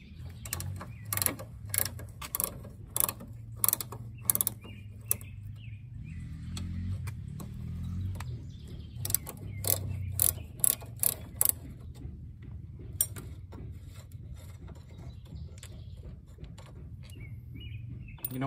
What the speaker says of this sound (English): we're gonna use the 12 millimeter wrench to remove the two bolts on each side